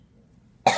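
A person with a cough while eating hot Cheetos gives one sudden, loud, close cough that ends a stretch of near silence.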